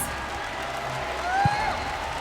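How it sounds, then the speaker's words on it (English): An audience at the M5 Knockouts esports event applauds for GEEK Fam as a dense, steady wash of clapping and crowd noise, with a brief electronic tone sweeping through near the end. "Everybody give him a big round of applause."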